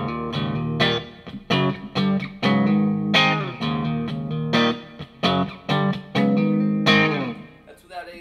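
An electric guitar played through an Orange Terror Stamp amp with no effects, heard as loud, slightly driven chords and riffs in choppy bursts with short gaps between them.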